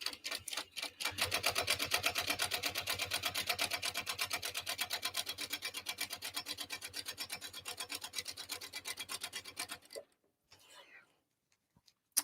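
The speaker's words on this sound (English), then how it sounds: "I'm sewing on a Jack H2 walking foot machine" A Jack H2 walking foot sewing machine stitches a tote with Tex 45 thread, running in a fast, steady, close-up mechanical rattle for about nine seconds before stopping, followed by a moment of quiet handling.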